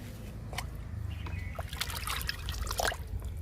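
Kitchen waste liquid is poured onto a drumstick plant in a home garden, giving soft, intermittent trickling and splashing that stays fairly faint and close, with no talk.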